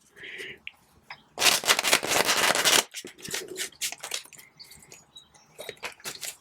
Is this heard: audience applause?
no